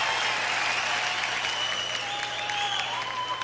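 An audience at a Jean Lapointe show keeps up continuous, even clapping, a close dense applause with a faint whistle-like tone and low hum threaded through it.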